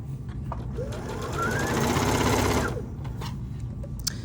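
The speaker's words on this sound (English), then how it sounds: "I want to keep this stitching within my seam allowance, which is 1/2 inch." A sewing machine runs a continuous stitching burst of about a second and a half while sewing a half-inch seam on a fabric bucket hat, rising steadily and then stopping, with quieter handling noise before and after.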